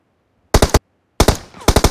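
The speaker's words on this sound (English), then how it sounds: "Tap left fire button to shoot." Bursts of gunfire from the player's weapon in the mobile video game BGMI: a short rapid volley, a pause, then a longer run of loud close shots.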